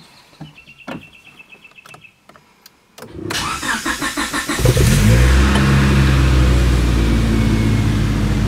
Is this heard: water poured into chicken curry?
no